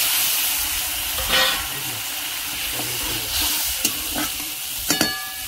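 Spice paste of ginger, garlic and cumin with chilli and turmeric powder, plus spiced water, sizzles and hisses steadily in a pan, with occasional clinks and scrapes of a stirring spoon for a Bengali raw mango and snakehead fish curry.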